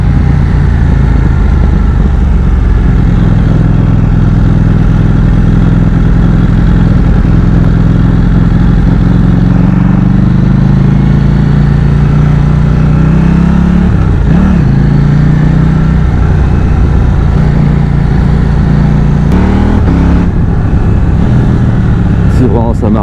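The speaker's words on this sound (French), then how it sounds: "le moteur en première, en deuxième et en troisième il tire, il arrache bien les bras" A KTM 790 Duke motorcycle engine pulls hard through first, second and third gears, a loud, continuous close-up drone that rises and shifts in pitch over the full stretch, with wind roar and occasional voices mixed in.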